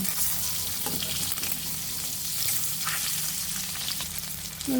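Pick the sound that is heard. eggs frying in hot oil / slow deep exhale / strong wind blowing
eggs frying in hot oil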